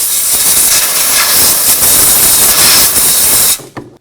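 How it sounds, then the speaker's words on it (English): Compressed air blasts around a spark plug on a 1994-2004 Chevy S-10, a loud, continuous hiss that runs for over three seconds and then cuts off abruptly. "I'm going to use a little bit of compressed air just to blow around the area of the spark plug to remove any debris"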